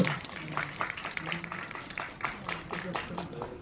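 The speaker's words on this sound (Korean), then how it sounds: "큰 박수로 부탁드리겠습니다" A cinema audience at a film stage greeting claps for a lucky-draw winner. Scattered, uneven applause rises and dips while voices talk over it.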